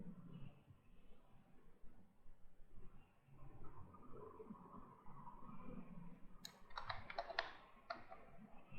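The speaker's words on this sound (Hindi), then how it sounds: "मैं फटाफट से ये कोड टाइप करता हूँ।" Someone types code on a computer keyboard: quiet room rumble first, then a short, quick burst of sharp key clicks close by near the end.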